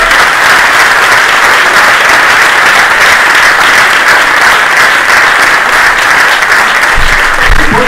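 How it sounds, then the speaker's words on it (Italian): A crowd applauds loudly and steadily throughout, a dense wash of clapping that never lets up. "vi chiedo ancora un altro grandissimo applauso per lui."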